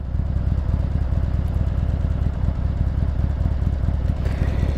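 A Harley-Davidson Sportster 883 motorcycle running on a gravel road in rural Wisconsin, its loud, close, steady engine rumble continuing without a break for the whole stretch.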